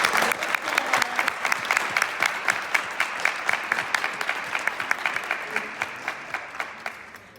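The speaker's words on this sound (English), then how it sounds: "I would like to give them all a round of applause right now." An audience at an elementary school National Junior Honor Society ceremony claps in a warm round of applause, dense and steady at first, then thinning into scattered individual claps as it fades.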